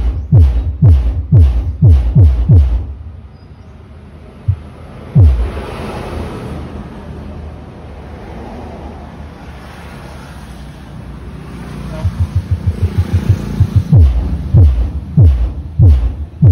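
A 2 kW subwoofer in a new box with a D15 driver pounds out heavy bass thumps in fast bursts, with a rattling roof. The beats pause into a lower rumble midway, then return loud and booming.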